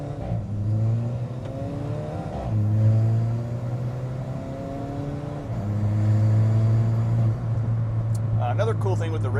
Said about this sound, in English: Another cool thing with the race exhaust versus the standard is you get these barks on upshift.